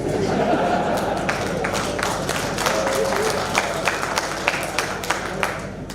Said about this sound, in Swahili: Nini mnapiga makofi na mimi naenda kuvutwa jamani.